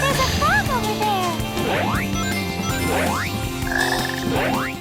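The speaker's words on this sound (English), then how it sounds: "There's a frog over there." Cartoonish frog croaks in Sonic Heroes, several loud rising croaks in a row over game music and chirpy effects.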